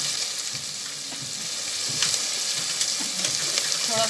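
Brinjal fries with sambar masala in a pan, producing a steady close hissing sizzle with faint bubbling crackles and no voices.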